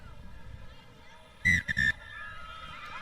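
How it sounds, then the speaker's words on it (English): A referee's final whistle ends a China versus Thailand rugby sevens match at the Asia Rugby Emirates Sevens Series in Sri Lanka. It sounds as three sharp, shrill blasts, one long and two quick, rising above a steady crowd murmur. "And that is the final whistle."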